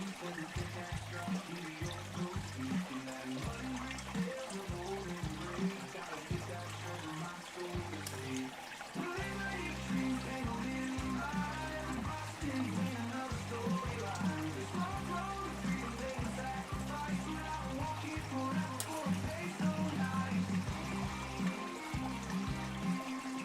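Water rushes steadily through a sluice, a continuous wash with occasional knocks and clatters of rocks carried in the flow, moderately loud throughout.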